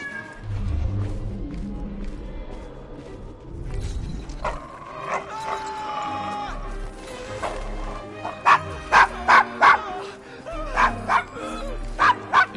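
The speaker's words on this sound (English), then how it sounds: "Is your dog quite all right?" A dog in the Assassin's Creed Syndicate video game barks and growls in a series of sharp, loud yaps that grow more frequent toward the end, with game ambience beneath.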